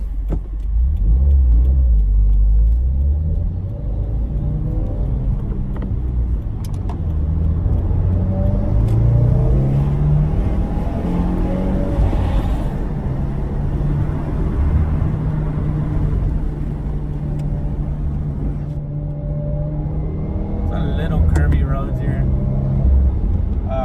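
A stock 2015-or-later Subaru WRX drives with a continuous engine drone and road rumble. The pitch rises and falls as the car changes speed, and a voice talks over it throughout.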